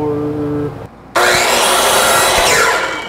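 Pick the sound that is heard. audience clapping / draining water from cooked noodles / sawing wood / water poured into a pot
sawing wood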